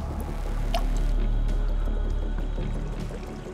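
Water runs continuously through a narrow cave passage, a steady broad wash and gurgle with a few brief drips, close and fairly loud throughout, with no voices.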